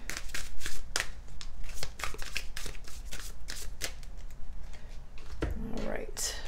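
Essential oils oracle cards are shuffled close up in quick, crisp riffling bursts, with a person talking softly over the rapid flutter of the deck.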